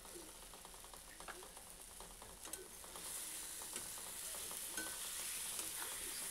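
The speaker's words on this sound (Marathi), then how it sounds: "अंडे आपल्या मसाल्यांसोबत छान असे भाजून घ्यायचं आहे." Halved eggs frying in oil with masala for egg masala curry, a continuous close sizzle with scattered crackles and faint stirring clicks, growing slightly louder and brighter partway through, no talk.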